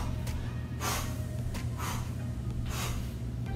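Heavy rhythmic breaths, several sharp inhales and exhales in turn, come from a person during a stretching workout, heard close over a low droning background hum.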